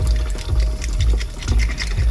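Tap water runs steadily while a surface is cleaned, a continuous close splashing flow with low rumble and bursts of brighter spatter.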